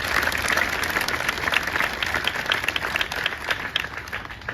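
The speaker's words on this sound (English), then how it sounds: "give them a round of applause for doing what they do during the patriotism" Outdoor audience applause for a color guard at a Memorial Day ceremony for fallen heroes, steady crowd clapping heard alone throughout, fairly loud and even.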